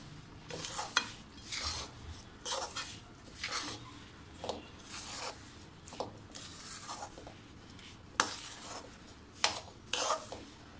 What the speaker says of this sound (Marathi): वेलची आणि जायफळची पावडर छान असं मिक्स करून घेऊया.